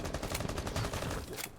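Automatic gunfire bursts in Rainbow Six Siege during a competitive esports semifinal match, dense rapid shots filling the short span at steady loudness with no voices.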